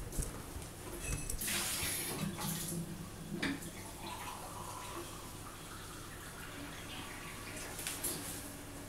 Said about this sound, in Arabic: هذه نصبوا عليها الكاس ماء،